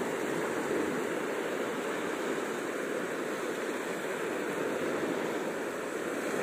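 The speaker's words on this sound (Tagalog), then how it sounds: "Saka hindi gaano kaalong, maliit lang yung alon." Small, gentle sea waves wash onto a shallow shore in a steady, continuous rush of surf with no distinct breaks, moderately close and without any voices.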